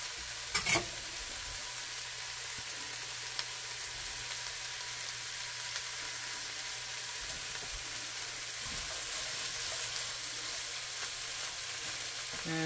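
Butter melting and sizzling in the bottom of a pot of red beans and rice with olive oil, a steady soft hiss of frying held at an even, fairly quiet level, with a couple of brief clinks early on.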